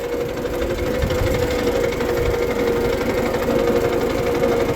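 A Farmall Super C tractor with a 230 engine, recently given a coil swap, idles outdoors with a steady, continuous mechanical chugging and hum at an even level throughout, with no voices.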